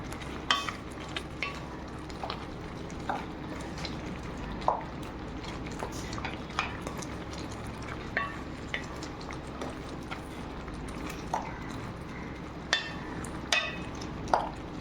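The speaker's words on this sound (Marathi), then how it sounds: "असं फिरवत राहायची पळी." Faint, close stirring of homemade tomato sauce with a ladle, a soft liquid bubbling bed broken by regular light clinks and scrapes of the ladle against the pot, with no voices.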